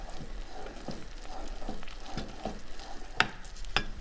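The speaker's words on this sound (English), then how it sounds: "So we're going to stir this till we form a ball." Choux dough made with flour and almond extract is worked in a pot, a quiet run of rhythmic scraping stir strokes over a low background, ending with a few sharper knocks of the utensil.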